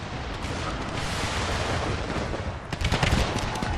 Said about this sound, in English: What kind of artillery is that? They're only 6-pounders. Oh my goodness. Artillery is brutal.